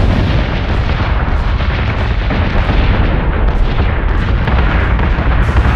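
Salvo of weapons fire from warships in Battlestar Galactica Deadlock, a dense, continuous roar of booming artillery blasts and bursts with no gaps, loud and close throughout.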